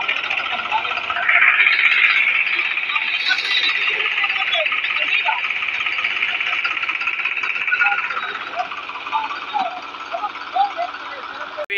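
A tractor engine, nicknamed a monster truck, runs in a village with a steady mid-pitched chugging drone. Voices talk over it throughout.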